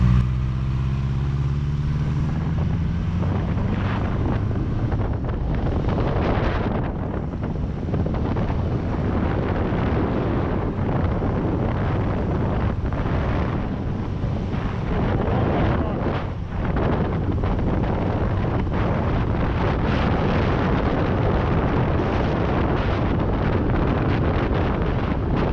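A cheap used motorcycle rides down a road, engine roar mixed with heavy wind buffeting the microphone, revs rising and dropping with gear changes including a missed shift, loud and continuous throughout.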